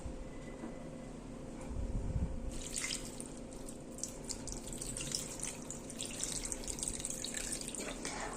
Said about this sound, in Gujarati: આવી રીતના બેથી ત્રણ પાણી વળે તેને પ્રોપર રીતના આપણે ધોઈ લેશું બધા જ પૌવાને